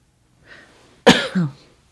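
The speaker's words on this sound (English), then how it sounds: "I'm hoping that I'm getting over this cough." A single sharp cough, close and loud, preceded by a faint breath and followed by a brief throaty tail.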